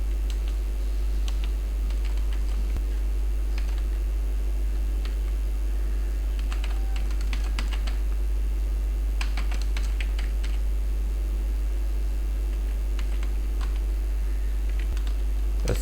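Typing on a computer keyboard, with irregular bursts of key clicks over a steady low hum, close and moderately loud, with pauses between runs of keystrokes.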